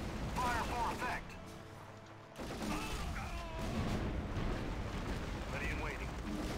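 Artillery fire in Axis & Allies (2004) during a World War II battle, heavy booming barrages and rolling gunfire under a steady din, with unit voices speaking over the bombardment.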